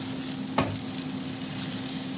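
Onions fry for corned beef hash with a steady, fairly quiet sizzle, broken by a single brief knock of a utensil against the pan early on.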